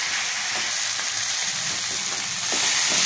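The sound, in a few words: spices frying with capsicum and bitter gourd in a pan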